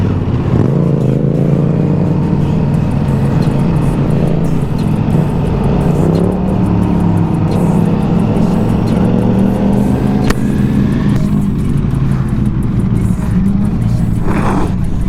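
Ducati Panigale V4S motorcycle engine revs loudly and close in a steady, rising roar, heard at a supercar meet in London with outdoor crowd noise around it.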